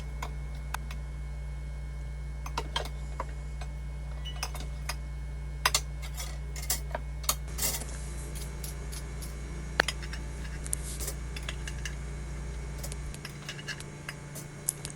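A garlic powder and grated Parmesan coating for air-fryer zucchini sticks is quickly mixed in a bowl, giving scattered light clinks and ticks over a steady low hum, with no talking.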